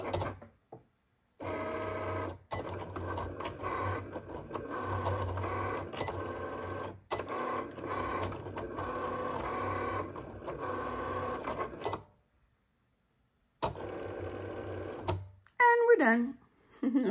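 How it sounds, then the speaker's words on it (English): Cricut cutting machine slicing adhesive vinyl, a mechanical whir with rhythmic buzzing passes broken by short pauses, close and moderately loud, with a spoken voice near the end. "let's go ahead and hit the blinking Cricut button"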